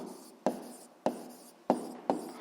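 A pen scratches across paper while notes are taken, in four short, close strokes, each starting with a sharp tap and fading into a soft scratch.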